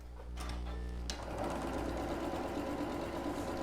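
A sewing machine runs steadily while stitching quilt block pieces in a class setting, starting after a brief pause and continuing as a loud, continuous motor drone with rapid needle chatter.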